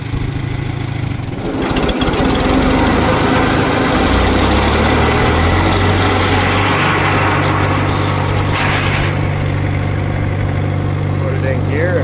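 A farm tractor engine running steadily with the PTO engaged for mowing in front of a shop, a loud continuous low drone that shifts pitch as it settles, with a person talking over it.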